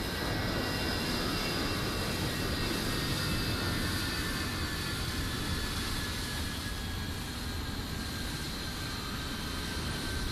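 Steady whine and broad roar of Boeing 737-800 jet engines in a Microsoft Flight Simulator game, continuous and even with no talk.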